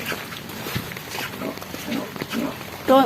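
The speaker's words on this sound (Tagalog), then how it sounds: "Oh, may baboy." A pig grunts several times in short, low, scattered snorts at moderate distance, followed by a person's voice at the very end.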